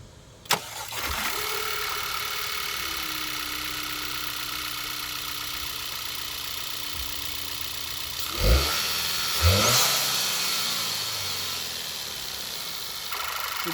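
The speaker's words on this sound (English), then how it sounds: "now fire up the engine" A Volkswagen GTI engine cranks briefly, catches and settles into a steady idle, with two short revs near the end, after new ignition coils and spark plugs.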